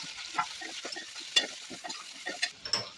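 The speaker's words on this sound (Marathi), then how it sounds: "आता त्याच्यामध्ये हे चिकन घालायचंय" Chicken pieces go into a pan of frying masala, making a series of short crackles and scraping stirs against a quiet, low sizzle, with no one talking.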